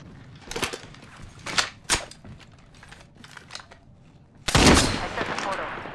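Gunfire in the Apex Legends battle royale game: several sharp bursts of shots early on, then a louder, sustained stretch of rapid firing near the end, with faint background game noise between.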